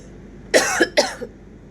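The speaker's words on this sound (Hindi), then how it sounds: "मुझे एकदम से खांसी हो गई" Two harsh coughs in quick succession, close and loud, followed by a faint throat noise.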